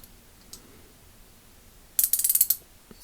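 An Ace Hardware Professional 3/8-inch drive ratchet clicks close up in a quick run of about eight sharp pawl ticks as it turns, preceded by a couple of faint isolated clicks in near silence.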